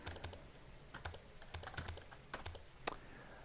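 Close, quiet clatter of keys as commands are typed into a keyboard during Signal Simulator play, irregular bursts of clicks running throughout with one crisp tap near the end.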